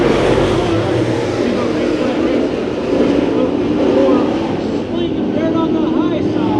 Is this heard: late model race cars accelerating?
yes